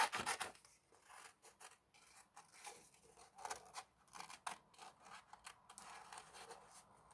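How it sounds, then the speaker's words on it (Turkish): Scissors snipping through paper to cut out a rabbit shape for a craft candy box, a series of quiet, close crisp snips and rustles, irregular and faint. "Şimdi makasla güzelce hem göbeğini hem de tavşanımızı keselim."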